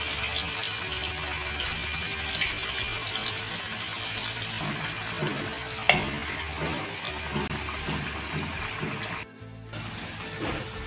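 Coriander vadi (kothimbir vadi), a Maharashtrian snack, fry in a pan with a steady sizzle and the scrape of stirring and turning, broken by a brief clatter near the end.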